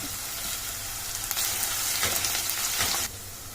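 Cumin seeds, onion pieces and curry leaves fry in hot oil with a steady crackling sizzle that swells louder midway for a couple of seconds, then drops back, with no voices.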